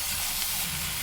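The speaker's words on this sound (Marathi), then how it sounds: "हाय फ्लेमवरतीच आपल्याला हे चांगलं परतून घ्यायचं आहे." Food being sautéed in a pan over a high flame, a short burst of loud, even sizzling hiss up close with no voices.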